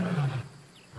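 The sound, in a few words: lion roaring in the distance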